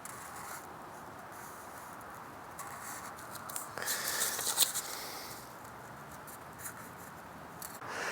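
Scissors cutting a triangle out of a paper plate, a soft steady snipping and rustle of paper that swells briefly in the middle, quiet and near with no voices.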